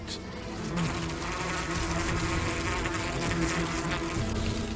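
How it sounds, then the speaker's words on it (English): A ball of honeybees mobbing and smothering a giant hornet, making a dense, steady, close-up buzzing hum that swells slightly and holds level throughout. "Clusters of bees mob the hornet and block the breathing holes on her abdomen."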